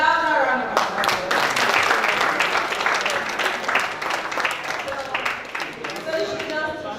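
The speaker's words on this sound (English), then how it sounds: "A louder round of applause." An audience at a Flutter developer conference claps in a steady, dense round of applause that holds strong for several seconds, then gradually thins, with no voices over it.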